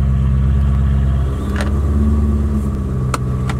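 A manual-transmission car's engine idles steadily and loudly close by, with a low continuous rumble and a couple of brief clicks, and no voices over it.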